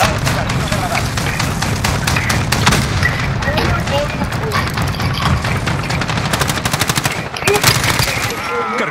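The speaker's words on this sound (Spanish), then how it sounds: "¡Va una granada!" Rapid automatic gunfire and a grenade blast in the shooter game Call of Duty Modern Warfare, played in team deathmatch multiplayer on the Hardhat map. Dense, loud bursts of shots run throughout, with a heavier explosive boom near the end.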